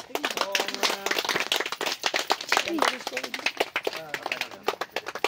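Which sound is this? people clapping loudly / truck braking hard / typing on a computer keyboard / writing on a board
people clapping loudly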